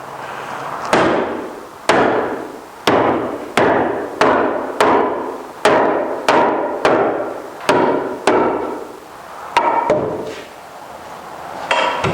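Sharp hammer blows knock a nailed window framing member loose from wall sheeting, about a dozen loud, evenly spaced strikes ringing close by with no talk.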